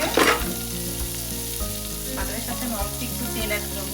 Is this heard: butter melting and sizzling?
yes